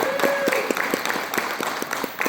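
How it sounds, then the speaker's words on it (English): An event crowd at New Worlds 2025 claps for service members and first responders, with clear rhythmic beats that come at a steady pace and a tone holding faintly underneath. "If we could just give them a round of applause, please."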